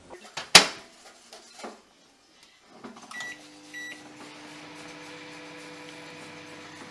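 A sharp clatter and door click, then a couple of beeps as a microwave oven starts up melting white chocolate and settles into a steady, low electric hum.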